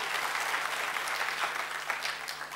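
A church congregation at a Christian sermon gives steady, fairly faint applause, a continuous crackle of many hands clapping together with no voices over it.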